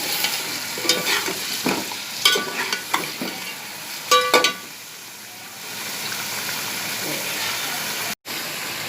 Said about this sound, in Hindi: जब इसकी चिकन की रंगत चेंज हो जाए, उसके बाद लहसुन डाल कर मैं फ्राई करूँगी।